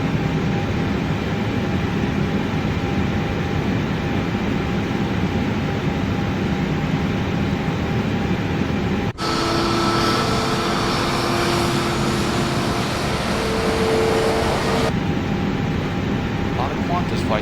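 Qantas A320 descending toward Sydney in Microsoft Flight Simulator 2024: a steady, loud broadband jet engine and airflow roar runs throughout, with a brief change in cabin tone partway through and talk over it.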